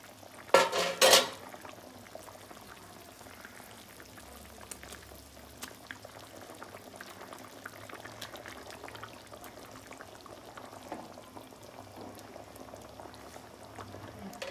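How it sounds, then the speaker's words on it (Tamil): Village-style fish curry (meen kulambu) bubbles in a pot, a soft, continuous simmer with a couple of sharp clanks of a utensil against the pot near the start. "மீன் வந்து ரொம்ப நேரம் கொதிக்கக்கூடாது, வெறும் அஞ்சு நிமிஷம் கொதித்தா போதும்."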